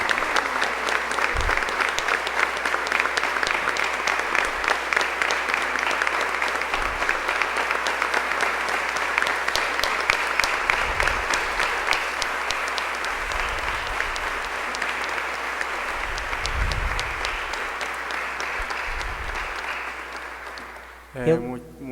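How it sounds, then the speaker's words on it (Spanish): A church congregation gives long, steady applause after a talk, dense and continuous for about twenty seconds before tapering off, with a few low thumps beneath it. "Le damos un aplauso a Miguel Ángel"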